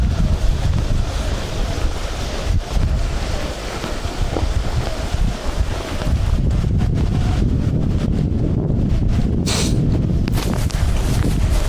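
Icy winter wind in heavy frost roars and buffets against the microphone in loud, continuous gusts, with a brief sharp whistle near the end.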